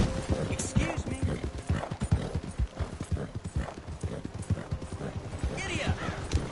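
Horse hooves from Red Dead Redemption pound in a fast, loud, rhythmic clip-clop gallop that carries close and dominant throughout.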